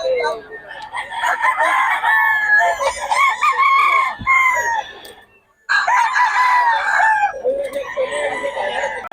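Roosters among newly bought gamefowl crow loudly and close by, with two long crows separated by a brief pause and some clucking and background noise around them.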